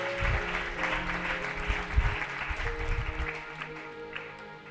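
A church congregation claps together through a sermon service, dense steady applause with rhythmic low thumps over a faint musical hum, no speech.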